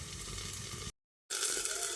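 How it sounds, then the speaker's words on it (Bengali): Potato and eggplant fry on a low flame under a lid, giving a soft, steady sizzle that stays faint and close, broken by a brief cut to silence before the sizzling resumes. "আবারও ঢাকা দিয়ে লো ফ্লেমে এইভাবে কিছুক্ষণ ভেজে নেব।"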